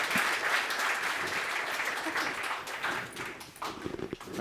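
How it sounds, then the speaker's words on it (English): Keynote audience applauding community award recipients as they come on stage, a sustained, fairly loud roar of many clapping hands that holds steady, then breaks into a few sharper, scattered claps near the end. "So if we can give them a round of applause."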